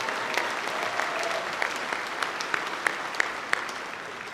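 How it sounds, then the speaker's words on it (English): Audience applause at a 2023 Collinsville High School graduation ceremony: steady, dense clapping from a large crowd fills the room evenly, with a few sharper individual claps standing out near the end. "Please give these individuals a round of applause in appreciation of their service to Collinsville High School."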